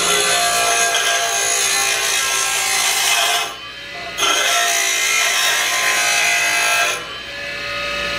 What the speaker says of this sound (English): So we'll grind on a piece of metal.